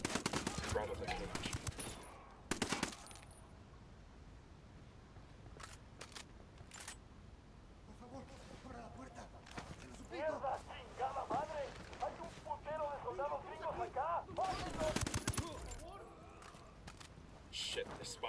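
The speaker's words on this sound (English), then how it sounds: "I'm opening fire." Gunfire in the tactical shooter video game Ghost Recon Wildlands comes as several sharp bursts of rapid shots, loudest near the start and later around the middle, while voices talk in between.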